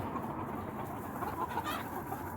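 Chickens and ducks cluck and murmur steadily as they scratch through raked-over bedding and manure for buried feed in a winter yard, a low continuous flock chatter at close range.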